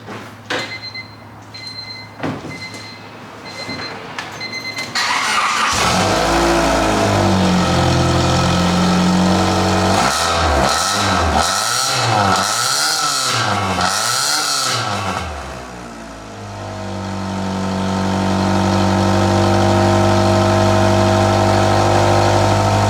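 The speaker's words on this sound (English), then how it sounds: "let's see what the exhaust sounds like that we put on the little Civic" A little Honda Civic engine with a newly installed exhaust, silencer in: close, loud and steady, rising through several throttle revs with a brief dip before settling back into a throaty idle.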